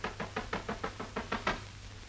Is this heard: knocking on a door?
yes